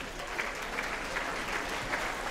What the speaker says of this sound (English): give these girls a last round of applause